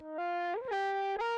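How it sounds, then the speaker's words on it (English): A synthesized melodic tone passes through a Spectre saturator set to a telephone preset, giving it a buzzy, narrow, distorted quality as it glides between a few sustained notes. "this is a saturator, and I use the preset telephone just to give it this quality."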